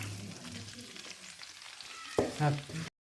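Sliced onions sizzle in hot oil in a pan while masala is made for a biryani, a steady close crackle and hiss, with a sharp clatter of a utensil near the end.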